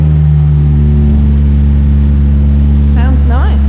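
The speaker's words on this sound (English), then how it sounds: "Oh, he's starting the Herald up." A Triumph Herald's engine runs in a steady, loud, close idle hum with strong low tones throughout. Voices speak briefly near the end.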